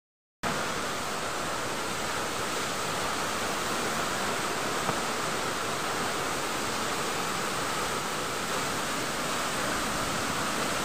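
A waterfall swollen in the rainy season at Sundha Mata Temple, Rajasthan, pours in a steady, dense roar, a constant broadband wash with no pauses or voices, close and loud throughout.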